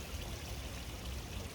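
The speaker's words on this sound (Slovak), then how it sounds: "Tu máme osácky krásny vodopádik." Small waterfall in an Osaka park, a steady broadband rush of falling water that stays even and continuous throughout, with no voices over it.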